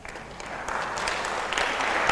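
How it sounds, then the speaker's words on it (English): An audience at a public lecture on nuclear science in Ghanaian agriculture breaks into steady applause, a dense spread of clapping that swells slightly and carries on without a break. "we shall be happy to give you the applause you deserve"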